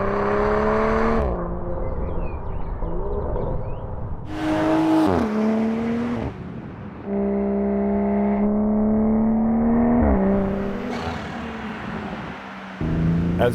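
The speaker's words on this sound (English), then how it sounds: "I need you guys to understand how good this B58 sounds" A loud BMW B58 six-cylinder engine in a BMW X3 with an aftermarket Dinan exhaust accelerates hard through several gears, its pitch climbing and dropping at each shift, with raspy bursts between pulls.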